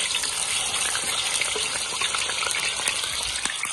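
Small-cut chicken pieces fry in oil outdoors in a garden, sizzling and crackling continuously with hissing and popping, a close, steady frying sound with no talking.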